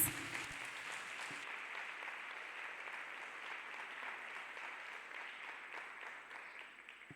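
A church congregation claps along for Jesus in steady, dense applause that carries on from start to finish at an even level, tapering slightly near the end.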